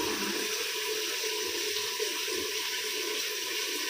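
Water runs steadily from a tap into buckets, a continuous close rush with no break and no voices.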